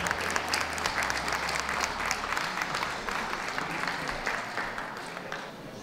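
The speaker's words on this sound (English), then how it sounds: "Please give him a warm round of applause." A warm round of applause from the ringside crowd at a toy group dog show, dense, lively clapping sustained at a fairly loud, even level before tapering slightly.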